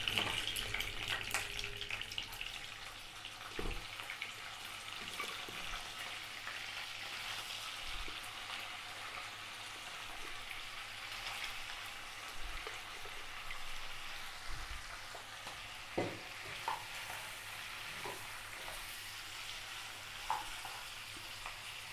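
Mutton pieces frying in a kadhai give a steady, fairly quiet sizzle with an occasional knock or scrape, heard close and continuous with no voices.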